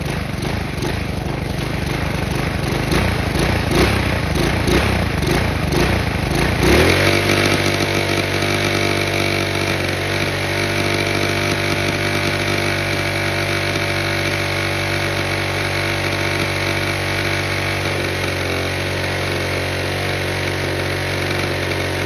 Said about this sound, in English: We're gonna rev it high again.